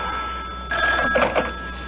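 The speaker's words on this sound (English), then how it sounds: "Oh, the phone, wait." A telephone bell rings in short bursts in a radio drama, loud and close, with nothing else over it.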